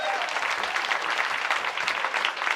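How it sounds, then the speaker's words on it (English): Live audience applause at a roundtable show, a short burst of steady, dense clapping from a crowd with no break. "Round of applause again."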